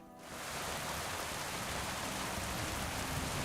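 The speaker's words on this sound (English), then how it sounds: "It's freaking pouring rain." Heavy rain pours steadily in the medieval role-playing game Kingdom Come Deliverance 2, near a charcoal camp; a dense, even hiss swells in within the first half second and then holds constant, with no talk.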